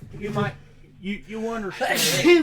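A single sneeze bursts out amid casual conversation, a sharp noisy release near the end after people talk and laugh, during a tabletop game session.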